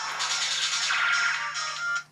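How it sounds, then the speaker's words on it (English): A bright electronic ringtone trills steadily for about two seconds, close and loud, then cuts off abruptly. "is that someone's phone ringing?"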